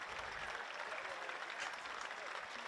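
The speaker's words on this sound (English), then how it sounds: "Roaring applause too." A rugby stadium crowd applauds in a broad, continuous roar, heard from a distance and fairly faint, with no voices on top.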